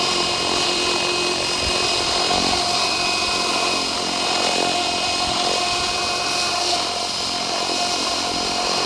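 A Spirit GT RC helicopter's rotor spins at a steady head speed of around 1650, a continuous dense whirring hum with a constant motor whine, loud and unbroken throughout with no voices.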